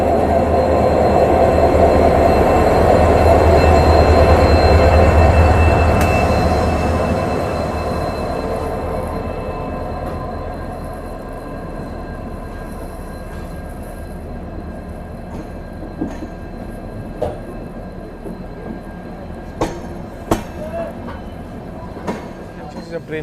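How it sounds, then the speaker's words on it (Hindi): A diesel-hauled train pulls out of an Indian railway station on the Jabalpur line, a loud rumble swelling and then fading as it moves away, with wheel squeal and clicks of rolling stock following. "और वहाँ एक ट्रेन निकल रही है, देखिए अभी जबलपुर वाली लाइन के लिए"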